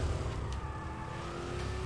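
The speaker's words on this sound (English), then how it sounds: "That's that really low revving thing." A car engine in the video game Burnout Paradise revs low and steady, a close, droning mid-pitched engine note held for a couple of seconds with no talk.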